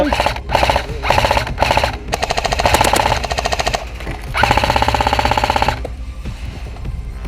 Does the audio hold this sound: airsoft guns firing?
yes